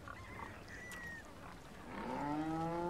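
A cow in the Resident Evil 4 remake lets out a long, low moo that swells louder toward the end, heard alone against a quiet ambient background.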